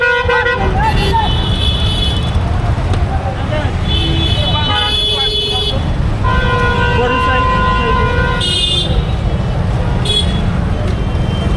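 On a busy street in Sylhet, Bangladesh, traffic rumbles continuously while car and bus horns honk again and again, some short and some held. Voices talk underneath.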